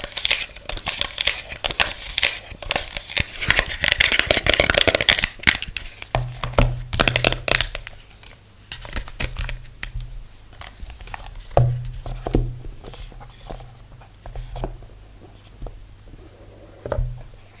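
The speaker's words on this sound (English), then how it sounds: "This is the insert, and I think it makes some really nice sounds too. It's not plastic, it's kind of paper sounding actually." Paper box insert tapped and scratched up close, giving dry crinkly rustles and soft papery taps in an uneven run, dense at first and then sparser, with a steady low hum beneath.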